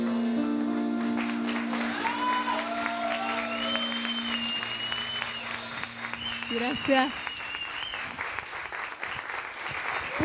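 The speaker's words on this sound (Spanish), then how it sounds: "¡Ay, fuerte el aplauso para esta gran artista maravillosa!" Audience applause for a singer at a café concert, steady clapping with scattered cheers from the crowd, while a host speaks over it near the end.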